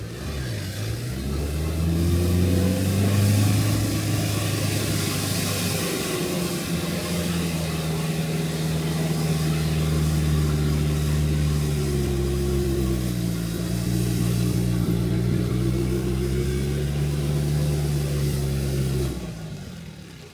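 A stuck car's engine revs hard and long in the mud during a cyclone in Sri Lanka, its pitch rising and falling as the wheels spin and dig in, loud and close with no talk.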